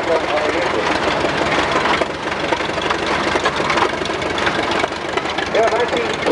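A 1931 Case Model C cross-mount tractor engine runs steadily at an outdoor antique farm fair parade, a continuous mid-pitched engine drone with broad noisy texture and no voices.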